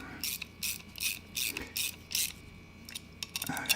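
Pruning shears' pivot nut being tightened, giving a run of quick metallic ratchet-like clicks and clacks in short bursts, fairly close and alone without talk.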